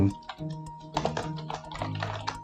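A computer keyboard is typed on in quick, uneven bursts of close, crisp key clicks and taps, with short pauses between runs.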